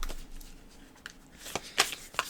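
A deck of moon oracle cards being shuffled by hand, soft riffling and tapping that builds into a few sharp close card snaps near the end.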